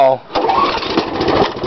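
Small engine on a lawn machine with a newly replaced light catching and running after a throttle tweak, a loud steady rough chugging drone that kicks in abruptly after a short sputter and holds close.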